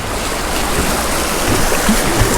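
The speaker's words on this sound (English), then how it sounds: "All right, through the rapids." River rapids roar as a boat passes through on a fishing trip for smallmouth bass, a loud, dense, continuous rush of churning water up close with no break.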